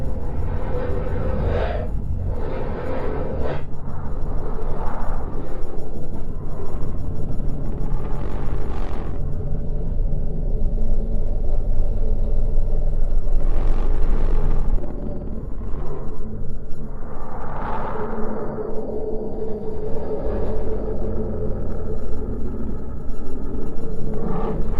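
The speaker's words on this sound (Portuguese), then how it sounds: "É assim que os aparelhos sensíveis captam o som da atmosfera e do interior do planeta." Sonified recording of planet Mercury's atmosphere and interior: a loud, dense, rumbling drone with swelling, eerie tonal sweeps and noisy washes drifting in and out, continuous and without speech.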